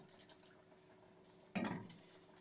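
Milk is poured into well-beaten eggs for a fried cauliflower batter: a faint quiet stretch, then a sudden brief splash and trickle that fades away, with no speech.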